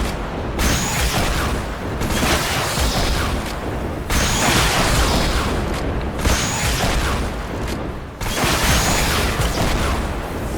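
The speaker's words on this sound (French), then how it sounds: "En fait, le lance-roquette, ça m'attaque." Rocket launcher blasts in Fortnite Save the World come as loud, dense rumbling explosions that roll on almost continuously, with brief dips in between.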